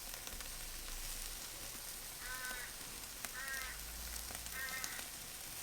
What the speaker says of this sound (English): Let's sear off the wings.